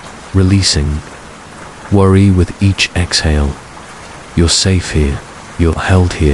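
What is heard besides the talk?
rain falling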